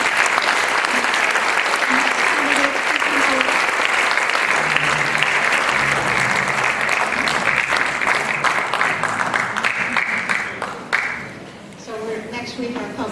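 Audience applause at a League of Women Voters candidate forum for Saratoga Springs city races, a steady, dense wash of many hands clapping for about ten seconds, thinning and fading toward the end as a voice begins over it.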